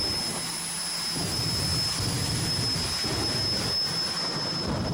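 Jet funny car, a circus-painted Thunderbird at Raceway Park, runs its jet engine with a steady, loud roar and a high whine held throughout, with no voices.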